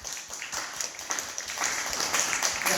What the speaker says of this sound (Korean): 우리 할머니가 이 박수 소리를 듣고 있을 것이라고 생각이 들어요